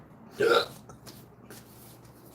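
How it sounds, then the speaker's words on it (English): A single sharp, loud human hiccup pops out once, followed by quiet room noise and faint scattered sounds. "Excuse my hiccups."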